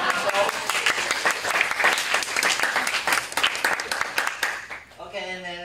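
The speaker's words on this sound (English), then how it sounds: "I wish you give me a big applause" A dense, loud round of audience applause at a speech evaluation session fills the room steadily, then thins as a voice comes in near the end.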